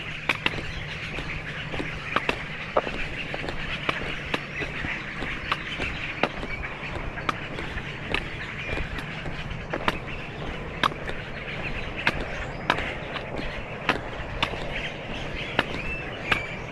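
A dense flock of birds calls continuously, with many overlapping chirps and squawks and occasional sharper calls standing out, fairly steady and outdoors.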